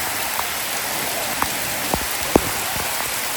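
Heavy rain with wind, a dense steady hiss of rainfall with scattered louder drops striking nearby surfaces.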